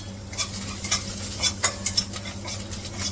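Kashmiri chili powder is stirred into hot oil in a pan while making misal pav. A quiet sizzle runs under a handful of sharp scraping strokes from a spoon against the pan.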